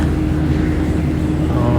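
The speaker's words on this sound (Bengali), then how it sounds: "সমুদ্রের উপরে বিমানটি ফ্লাই করছে" A steady, loud, low roar of airliner cabin noise fills the whole moment during a flight from Sharjah to Sylhet over the sea, with no distinct events.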